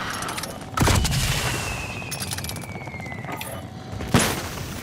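Gunfire in Call of Duty: Modern Warfare, two loud close shots about three seconds apart, each a sharp crack with a short echoing tail, over a dense bed of distant battle noise.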